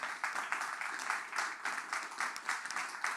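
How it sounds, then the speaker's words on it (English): Audience applause fills a conference hall at the close of a talk on usability testing in open source software: steady, dense clapping with slight surges throughout, fairly close, with no voices over it. "We'll give you another round of applause for good answers."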